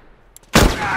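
A sudden loud blast of gunfire or an explosion erupts in The Last of Us after a near-silent pause, its broad burst sustaining and rumbling briefly as it fades.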